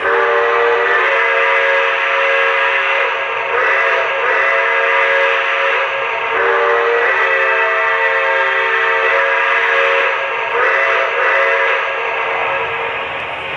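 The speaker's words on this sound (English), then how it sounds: "And when I blow the whistle" A Lionel Vision Line Niagara model train's steam whistle blows repeatedly in long, loud, chord-like tones, with short pauses between blasts over a steady rumble.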